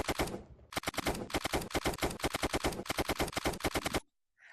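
An M4 fires on full automatic in a VR shooter game, a loud close burst of rapid sharp shots, a short pause, then a longer continuous stream that cuts off abruptly.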